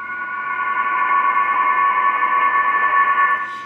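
Steady HF ham radio digital mode signals: several stacked sustained tones warbling together in a continuous, fairly loud electronic drone with a hissy background, fading out at the very end.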